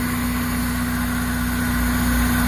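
Toyota 4AFE engine idling roughly and a little high, a steady close hum with a faint pulsing beat, continuous and alone.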